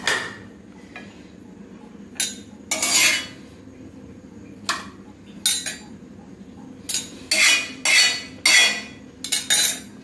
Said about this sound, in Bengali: এদিক দিয়ে নাস্তা দেওয়ার জন্য একটা প্লেট নিয়ে নিই।